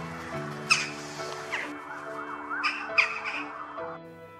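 A jackdaw gives several short, sharp calls, spaced irregularly and heard over a steady tonal background hum.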